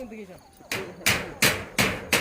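Someone pounds with a hammer, landing five sharp, evenly spaced strikes in quick succession after a moment of voice at the start.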